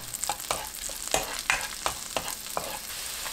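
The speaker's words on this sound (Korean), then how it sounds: "버터가 반 정도 녹으면 바로 마늘을 넣고 1분 볶아주세요" Garlic stir-fried in half-melted butter in a pan over medium heat, a soft continuous sizzle broken by repeated spatula scrapes and stirs at a roughly regular beat.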